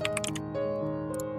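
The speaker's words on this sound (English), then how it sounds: "I'm realising now quite how loud this keyboard is" Loud, tactile computer keyboard typing up close, a quick run of clicky keystrokes with a short pause before a few more taps, heard alone without talk.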